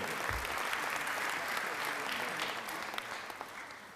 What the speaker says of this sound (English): Yeah, you can go ahead and clap.